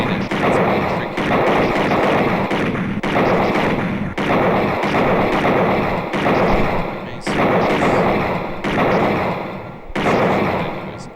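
Gunshots in the Sega CD video game Snatcher, a series of loud, regularly spaced blasts about once a second over a dense, continuous game soundtrack.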